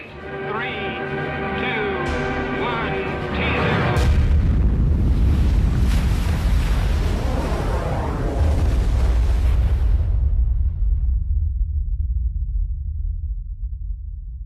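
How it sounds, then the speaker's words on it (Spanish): Thermonuclear bomb explosion of about ten megatons: a sudden heavy boom after a few seconds of other sound, then a deep, loud roaring rumble that rolls on for several seconds before cutting off into near silence. "La potencia de la explosión es similar a la de 10 millones de toneladas de TNT"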